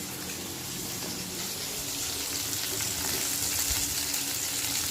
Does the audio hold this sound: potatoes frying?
yes